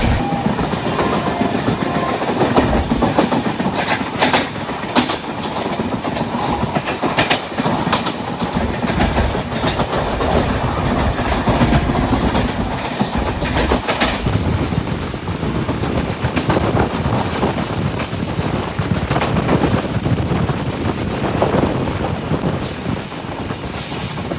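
Duronto Express sleeper train running at speed on the Konkan Railway, a steady loud roar of wheels and rolling stock with rhythmic clickety-clack throughout, continuous and close, with no talk.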